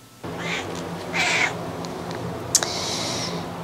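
A curly-coated cat meows indoors, giving several separate calls, one short and faint and then longer, louder cries, over a quiet room hush with no talking.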